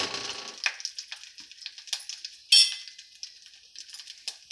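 Whole spices dropped into hot oil in a pan for tomato rice, giving scattered crackles, pops and clinks with one sharp sizzle burst partway through.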